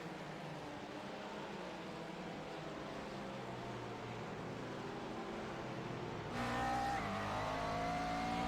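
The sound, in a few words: McLaren MP4 12C GT3 race car engine on board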